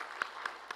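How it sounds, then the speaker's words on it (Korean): A few faint, sparse claps, three distinct strikes, from a children's group at a late-night church children's program, quiet and close with no talk. "박수 한번 합시다."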